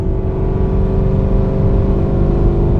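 A modified 550 WHP Camaro ZL1 pulls hard in sixth gear, a steady, loud engine drone that builds slightly over the few seconds, heard from inside the car with no talking.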